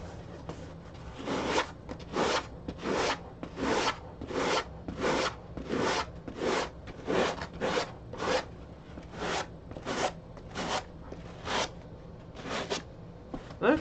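Foam hand-sanded for a costume build, a regular series of about twenty close, scratchy back-and-forth strokes, evenly paced and moderately loud, with no talking.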